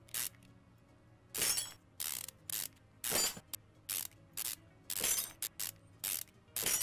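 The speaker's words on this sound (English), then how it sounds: "the sound effects make me think that they're breaking the parts as they're getting rid of them" Repeated breaking and shattering effects from Car Mechanic Simulator, as parts are scrapped: about a dozen short, bright crashes with glassy clinks, each standing alone over a low game hum, with irregular gaps between them.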